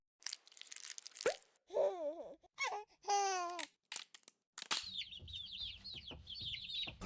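Loud honking, squawking and clucking bird calls from a played goose meme video come in separate bursts with gaps between them, followed by a busier stretch of higher warbling cries over a low background.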